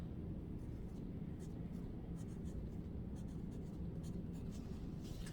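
A pen scratches across a paper plate in soft, quick strokes, faint and close, over a low rumbling background with some quiet talk.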